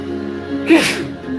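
A single sharp sneeze from someone with allergies bursts out over a low steady hum, close and fairly loud.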